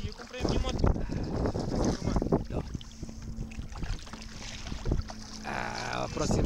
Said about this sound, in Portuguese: O motor traseiro está a mandar rater.